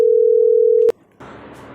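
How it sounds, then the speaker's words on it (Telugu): A phone call rings out as one steady loud electronic tone, then cuts off abruptly and gives way to quiet background. "ఒక్క రింగ్ కూడా కాకముందే కట్ చేస్తుంది. మళ్ళీ ఫోన్ చేస్తున్నాడు."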